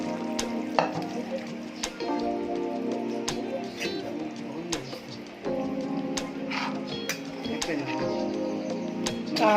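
A spoon scrapes and clinks steadily around a pan of simmering drumstick curry with tamarind (munakkaya pulusu), with soft sizzling underneath and a voice at times.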